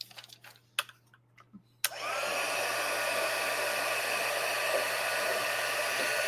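A heat gun melting embossing powder on a card switches on abruptly after a few faint clicks and handling noises, then blows a steady, close, loud whooshing hiss that continues unbroken to the end.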